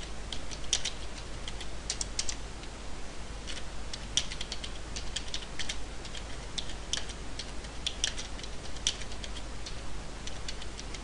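Fingers type text on a computer keyboard in quick, irregular clusters of light clicks and taps over a faint steady background hum, with no voices.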